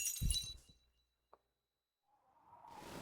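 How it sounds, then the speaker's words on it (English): Glass shattering in Half-Life 2: Lost Coast, a short bright crash of breaking glass at the start, then near silence with a faint tick, before a rising rushing noise swells in. No voices. "I hear glass shards."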